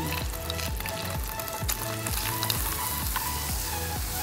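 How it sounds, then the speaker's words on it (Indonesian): Onions sautéing in a pan give a steady broadband sizzle throughout, partly masked by background music with a regular thumping beat. "Selanjutnya kita langsung menumis bawang bombaynya dulu"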